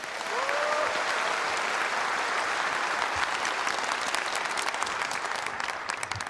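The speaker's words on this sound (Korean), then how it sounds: "수고해주신 모든 출연진분들께 다시 한번 큰 박수를 부탁드립니다" A large audience at a Korean Liberation Day anniversary ceremony gives the performers a long, even round of applause, dense clapping filling the hall throughout without speech.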